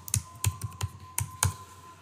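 Quick, uneven clicks of a laptop computer keyboard as someone types details into an online registration form; about seven sharp, close keystrokes in a little over two seconds, in a quiet room with no talk.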